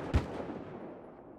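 A single sharp gunshot in the video game Battlefield Hardline cracks loudly and close, then trails off into a short fading echo with no voices over it.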